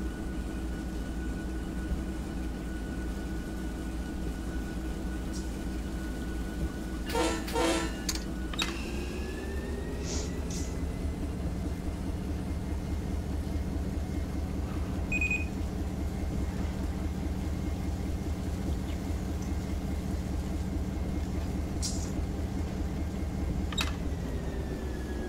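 Steady engine drone and low rumble inside the cab of a rock-train locomotive, continuous throughout, with a few brief clanks and squeals and a shift in engine tone partway.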